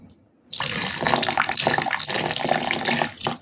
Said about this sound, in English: add a little bit more water to the mix